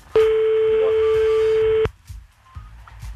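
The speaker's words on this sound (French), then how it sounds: "On entend la sonnerie chez lui" A steady, loud telephone ringing tone heard on a call, one sustained electronic tone lasting under two seconds before cutting off into faint background noise.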